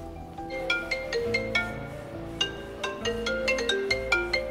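A phone ringtone plays alone, a bright melodic electronic tune of repeating plucked notes in a steady rhythm, moderately loud and close.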